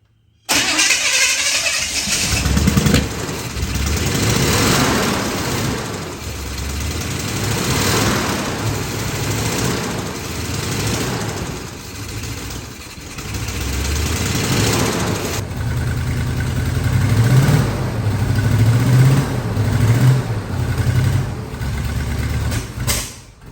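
A Squarebody Chevy 4x4 truck engine cranks and fires after a new intake and carburetor install, then runs loud and uneven for about twenty seconds, surging and stumbling roughly, with no talk.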